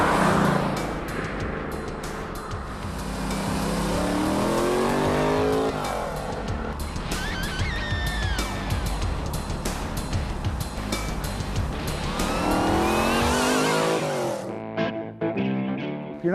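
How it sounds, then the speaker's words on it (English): A 1966 Chevy Corvair fitted with a small-block Chevy V8 revs repeatedly, rising and falling in pitch with loud throaty roars, close by, before cutting back to a lumpy idle. "It's a small block Chevy powered,"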